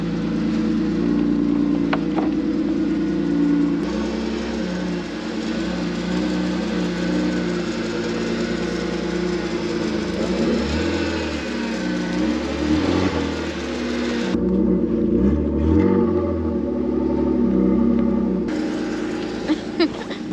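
A BMW car engine, a winter-beater E39 or E36, runs with a steady roar and deep rumble, rising and falling in places with a revving surge mid-way, close and continuous for about twenty seconds.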